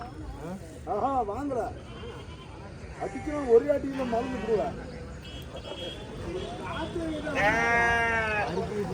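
Goats at the Muthunayakkanpatti livestock market bleat again and again, several wavering cries rising and falling over a busy market background, with the loudest call near the end.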